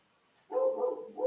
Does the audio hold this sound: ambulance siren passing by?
no